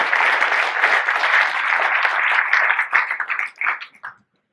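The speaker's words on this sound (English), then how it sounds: "A round of applause for Joey Long" Audience applause at a gadget show event, a sustained round of clapping from a crowd that holds steady for several seconds, then breaks into scattered claps and stops abruptly.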